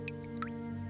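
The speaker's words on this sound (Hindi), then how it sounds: "बारिश की आवाज पूरे घर में गूंज रही थी।" Rain dripping inside a house, with a few distinct, close drips falling over a steady low background hum.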